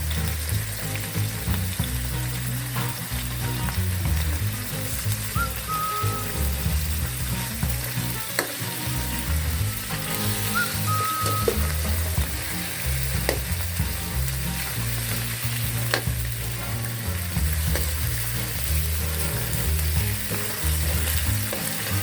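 Chicken adobo fries steadily in a pan, with a continuous close sizzle broken by occasional scrapes and stirs, and no talking.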